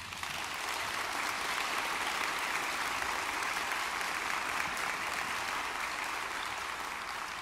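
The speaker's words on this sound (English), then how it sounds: "He needs a huge round of applause" Steady, sustained applause from a concert audience for a chamber choir's director, a dense even wash of clapping that holds at full strength for the whole stretch with no voices over it.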